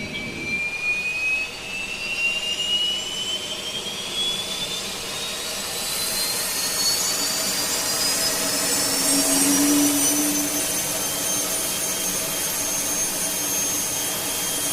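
Four jet engines of an Avro Vulcan B2 bomber idle with a steady roaring hum, and a high turbine whine climbs slowly through the first half before settling. It runs continuously and fairly close, with no voices.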